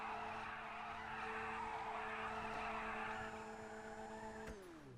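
A Stinger GT spins tire-smoking donuts in GTA Online: loud sustained tire squeal and skidding over a steady engine drone, easing off near the end.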